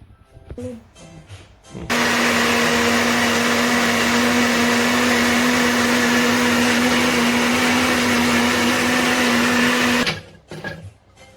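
A blender whirs steadily at close range for about eight seconds while pureeing carrot for Jamaican carrot porridge, starting and stopping abruptly, with brief handling noises before and after.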